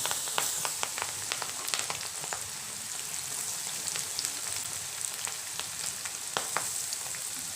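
Vegetable pieces deep-frying in hot oil for crispy vegetables, a steady dense sizzle with frequent sharp pops and crackles throughout, close and fairly loud.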